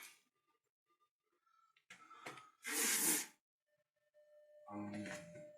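Carburetor cleaner sprays in short hissing bursts while working on a 1991 motorbike engine. Several close, loud blasts are separated by quiet gaps and mixed with faint clatter and a voice.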